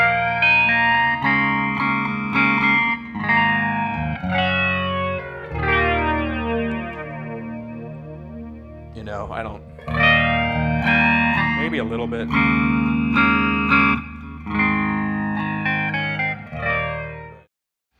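Electric guitar chords and single notes through an MXR EVH117 flanger pedal, a sweeping, whooshing effect, played loud and continuous with brief pauses, a short spoken word near the end.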